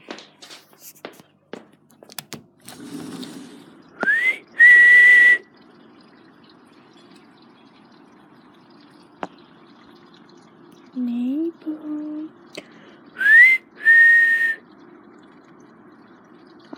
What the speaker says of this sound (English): Should we whistle for it?